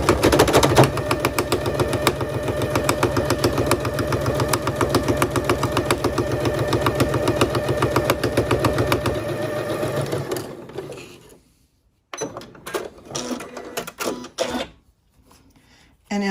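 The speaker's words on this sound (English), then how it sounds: "Now here we are at the sewing machine, and I have my 1/4 inch foot on here, and I'm just going to stitch right along my zipper teeth" A sewing machine with a quarter-inch presser foot stitches along zipper teeth for a triangle zipper pouch, running in a steady loud mechanical chatter for about ten seconds, then stopping and starting in short bursts.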